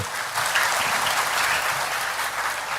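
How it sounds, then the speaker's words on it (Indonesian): Steady, fairly loud applause from a gathered audience, many hands clapping continuously for a few seconds with no pause and no voices over it. "kita tepuk tangan dulu kepada mereka"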